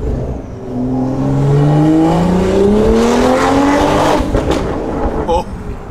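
BMW M340i exhaust burbling and crackling as the throttle lifts after a hard pull, loud and close, with rising engine harmonics tailing off into pops near the end.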